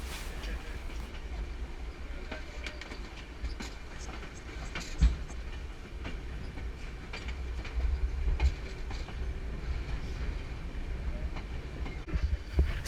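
A passenger train between Yangon and Bagan, Myanmar, rumbles steadily along the rails, a continuous low roar with faint rattles and occasional clanks, sounding close and sustained throughout.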